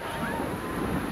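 Sea waves at Puri beach give a short, steady wash of surf and wind noise, close and fairly loud, with no clear break between swells.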